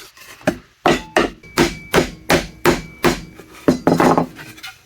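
Hand-cut wooden dovetail joint being driven together with a hammer: about a dozen sharp, close knocks in a steady, uneven rhythm, heard alone with no talk.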